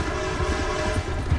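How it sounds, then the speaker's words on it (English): A train in the video game Red Dead Redemption 2, a brief, steady low rumble with sustained tonal horn-like bands, moderately loud, heard alone. "if I beat the train"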